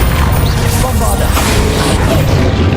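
A Bombarda spell blast in Hogwarts Legacy lands as a loud, dense crashing burst that fills the whole moment with rough booming noise, with no voice over it.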